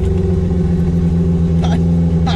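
Turbocharged Honda car engine humming steadily inside the cabin, rising slightly as the driver gives it gas after stalling at a red light, with a low droning rumble throughout and brief voices cutting in near the end.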